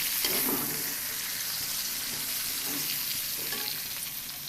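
Small skin-on chicken pieces fry with potatoes in a pan, giving a steady, moderately loud sizzle with repeated stirring clatter, heard close with no talk.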